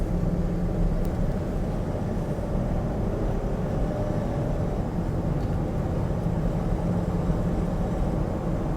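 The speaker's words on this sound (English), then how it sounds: "Now let's take this thing for a quick cruise." A 62k-mile 2001 Ford Excursion Limited with a V10 cruising on a road, a steady low engine drone and road rumble heard from inside the cabin, continuous and fairly loud without talk.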